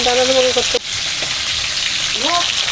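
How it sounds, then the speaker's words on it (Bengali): Tilapia fish fries in mustard oil in a pan with a loud, bubbling sizzle. A short, indistinct voice fragment is heard near the start and again near the end. "এদিকে তেলাপিয়া মাছ ভাজা হচ্ছে সর্ষের তেল দিয়ে দিচ্ছি"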